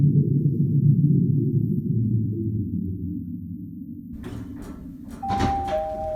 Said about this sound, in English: The elevator doors open